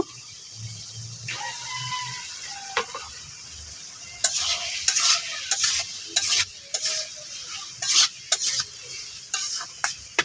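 Spice paste for a fish curry sizzles in oil, with a spoon stirring and scraping the pan in repeated bursts and sharp clinks standing out over a steady frying hiss.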